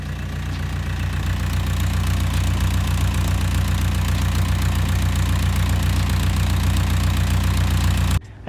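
A skid steer's diesel engine idles close by with a loud, steady, deep chugging rumble that runs alone without a break and cuts off sharply right at the end.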